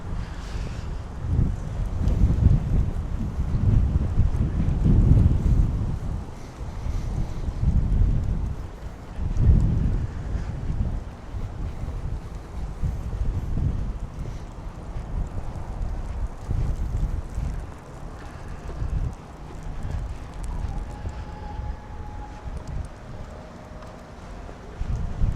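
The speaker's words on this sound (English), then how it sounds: "Ooh, there's that wind again." Cold wind buffets the microphone outdoors at Kennedy Space Center near the Artemis II SLS rocket, a loud, rumbling roar that swells and eases in gusts throughout.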